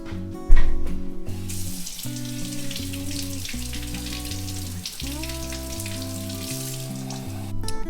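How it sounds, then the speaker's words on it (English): Really cold tap water runs into a jar of salt brine for fermenting ginger, a steady close splashing stream over a sustained musical hum in the background. "Now I'm just going to add some really cold water."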